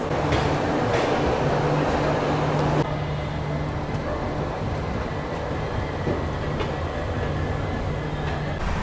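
A long-distance passenger train rolls steadily on India's longest route, heard from inside a general coach as a loud continuous rumble with faint rail clatter and a low hum, no voices.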